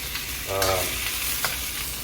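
Cubes of pork fry in a hot pan with a dense, steady sizzle, close and fairly loud, with a brief stirring scrape.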